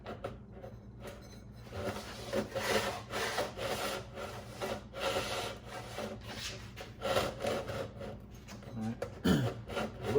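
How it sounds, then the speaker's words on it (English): A running Harbor Freight 6-inch disc sander, its disc pushed too far onto the shaft, gives a continuous scraping rub with uneven grinding surges, close and fairly quiet. "A little bit of rubbing there, so I think I pushed this disc on too far."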